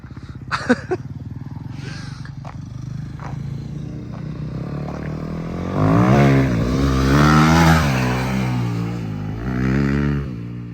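A Yamaha 250 YZF dirt bike rides off-road: clattering and scraping at first, then the engine revs up strongly in rising, wavering bursts before easing and surging again.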